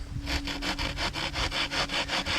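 A saw cuts through a wooden piece for a bow drill set, loud and close, with about ten even back-and-forth rasping strokes in a steady rhythm.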